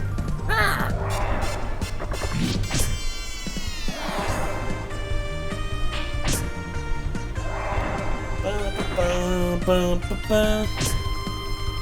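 Crows caw repeatedly in the video game Lunar The Silver Star Remastered, harsh calls over a busy game soundtrack with layered music and effects, fairly loud and close throughout.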